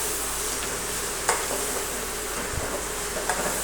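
Washed bhaji greens tossed into chutney already frying in a pan give a steady close sizzle, with a few soft scraping stirs and light clicks over the hiss.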